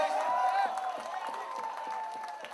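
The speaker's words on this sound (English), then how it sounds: "Make some noise, clap some hands, guys." Crowd cheering and clapping at a music launch event, a steady roar of voices with claps mixed in, loud and sustained throughout.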